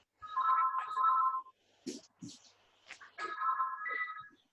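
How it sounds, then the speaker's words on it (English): A phone rings in two short electronic bursts, separated by a pause in which someone talks close by. "The phone is ringing."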